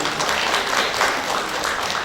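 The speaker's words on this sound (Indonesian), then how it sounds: "Mohon tepuk tangan." A crowd at a women's organization regional meeting in West Kalimantan applauds steadily, a dense wash of many hands clapping at once, fairly loud and continuous throughout.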